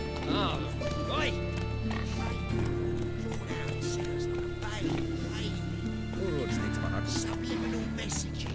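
Roach the horse in The Witcher 3: Wild Hunt, with steady hoof clip-clop and the odd whinny over a continuous game soundscape, while someone talks over it.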